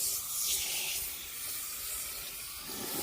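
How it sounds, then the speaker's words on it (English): ArmorAll carpet and upholstery cleaner sprays from a shaken aerosol can onto fabric, a steady close hiss lasting a few seconds with slight variations in pressure, heard alone. "So, let's give a spray here."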